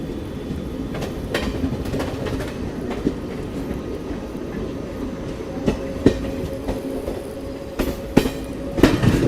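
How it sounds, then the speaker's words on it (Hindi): A train rolls through Mathura Junction in the evening, heard from on board as a steady rumbling run with rhythmic clickety-clack of wheels over rail joints growing sharper toward the end. "शाम के 6 बजे एग्जैक्ट अपनी ट्रेन मथुरा जंक्शन से गुजर रही है।"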